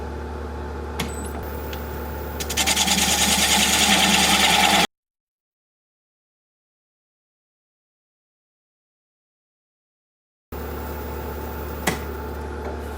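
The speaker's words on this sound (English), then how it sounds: "And I'll just use a 1/4 inch bowl gouge to work that down." A wood lathe hums steadily while a 1/4 inch bowl gouge cuts into a spinning walnut hollow form, a harsher scraping rising for a couple of seconds; the sound drops out completely for several seconds before the motor hum returns.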